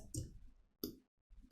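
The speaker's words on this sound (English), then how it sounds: "it's just a lot of clicking and dragging nodes and tweaking things" A computer mouse clicks while vector nodes are drawn with the pen tool in Adobe Illustrator: three separate sharp, close clicks spaced apart by short silences, no talking.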